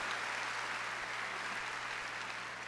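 A church congregation applauding, a dense, steady wash of clapping from many hands that continues without pause.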